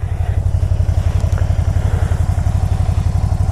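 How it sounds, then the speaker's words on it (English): A Can-Am off-road vehicle's engine runs close by with a loud, steady, rapid idle pulse and a rough, clattery tone throughout. "I'm showing you guys how good this Can-Am actually runs"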